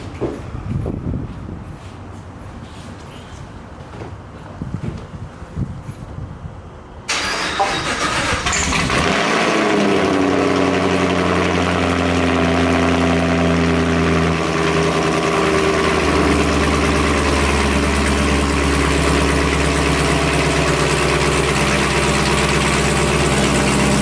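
A Camaro engine cranks and catches on a cold start, then settles into a loud, steady rumbling idle that continues to the end, with quiet background noise before the start.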